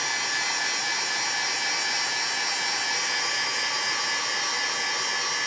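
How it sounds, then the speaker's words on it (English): A steady, loud rushing blow of hot air from an embossing heat tool melting embossing powder, constant and unbroken throughout with no talking. "get my heat tool nice and hot."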